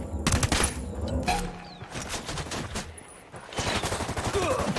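Video game gunfire from Ghost Recon Wildlands crackles in rapid bursts and volleys, several weapons firing at once with short lulls between.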